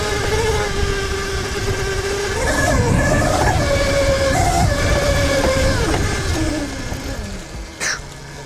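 A 13 kW TruMoto RTR electric pit bike on stock knobby tires cruising close by, its motor giving a high, shifting whine that climbs and falls with throttle over rolling road and wind noise.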